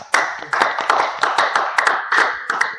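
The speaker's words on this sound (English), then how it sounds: "Clap for yourself." One person claps close by in a fast, uneven series of sharp hand claps, loud and dry, about a dozen strikes in quick succession.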